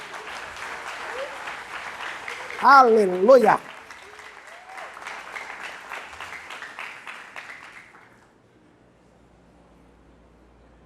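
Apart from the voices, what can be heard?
audience applause at a church vigil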